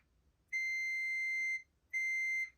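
A multimeter on continuity test beeps while probing the fuse of a Giant e-bike battery: two clear, steady electronic tones, the first about a second long and the second shorter, sounding alone in a quiet room.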